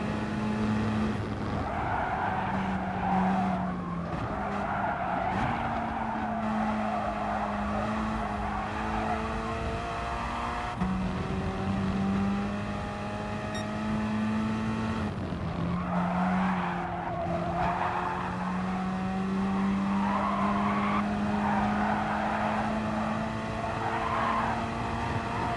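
Race cars in Gran Turismo Sport on the reversed Dragon Trail Gardens circuit, engines droning steadily and loud throughout with repeated tire squeals and skids as the car corners.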